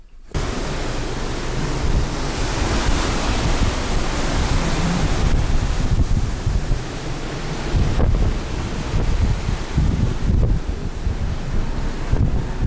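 Strong wind buffets the microphone on the deck of a Smyril Line ferry crossing from Denmark to Iceland, with waves rushing and crashing against the hull underneath, as a loud, continuous roar with gusty surges.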